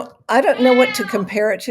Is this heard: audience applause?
no